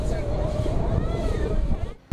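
A two-deck tourist boat cruising the Nagarjuna Sagar backwater, with a steady, loud low rumble and wind-buffeted water noise that runs throughout before cutting off abruptly near the end.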